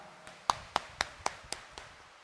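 A church mass congregation claps in response to a call to clap louder, giving about six sharp, evenly spaced claps, faint and somewhat distant.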